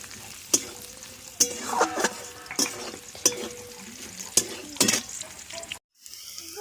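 Vegetables such as carrot, peas and capsicum frying in a pan, with a steady sizzle broken by repeated sharp scrapes and clatters of stirring, close and fairly loud, ending abruptly.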